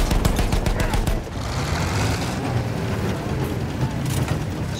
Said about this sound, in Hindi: कौन गोलियां चला रहा है कहीं से.